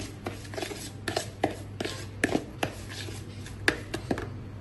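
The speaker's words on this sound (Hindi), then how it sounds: "अब इसको अच्छे से मिक्स कर लेंगे सूजी में।" Egg being mixed into semolina in a bowl, a series of irregular scraping and tapping strokes, fairly close, with no talk.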